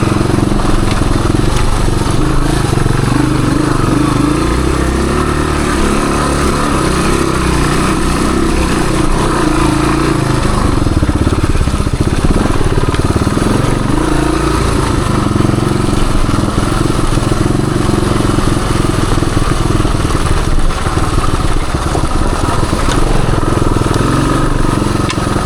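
A 1978 Suzuki DR370 trail bike engine pulls steadily through a woods trail ride, a continuous mid-pitched motor drone held close and loud throughout with no talk.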